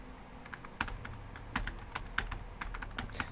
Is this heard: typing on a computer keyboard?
yes